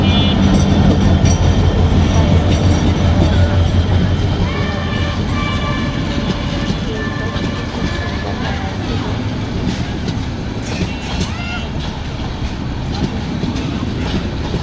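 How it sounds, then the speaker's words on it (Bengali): A train in Bangladesh rumbles loudly and steadily along the track, with a continuous clickety-clack of wheels on rails and faint squeals, dominating the scene throughout while muffled voices sit underneath. "এই যে আরেকটা ট্রেন দেখুন আসতেছে"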